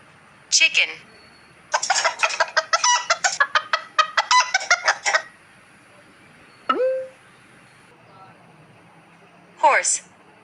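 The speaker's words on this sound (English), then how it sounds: "Chicken." Chicken clucking in short bursts: a brief call, then a rapid run of choppy clucks lasting several seconds, followed by a couple of isolated calls, close and fairly loud against a quiet background.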